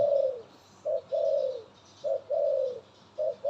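A dove calls nearby in a repeated cooing pattern: short coos followed by longer drawn-out ones, three phrases in a row, clear against a quiet background.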